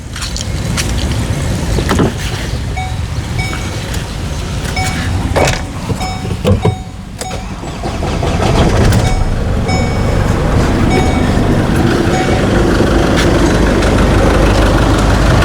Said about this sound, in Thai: ขอสตาร์ทเสียงเครื่องให้ทุกคนได้ฟังกันนะครับ